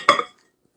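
A deep dish pie plate handled in a home kitchen, giving one short clink with a quick fading ring, then silence.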